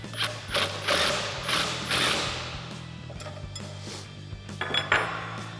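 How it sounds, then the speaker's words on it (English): An adjustable wrench tightens a tie rod clamp on a Jeep Gladiator JT, giving several close metallic clicks and scrapes in uneven bursts with short pauses between. "we'll tighten this clamp back up"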